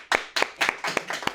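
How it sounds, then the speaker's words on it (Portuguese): Sparse clapping from a small audience, a handful of sharp, distinct hand claps arriving unevenly over about a second and a half, close and fairly loud with no talk. "Um forte aplauso para o Teixeirinha."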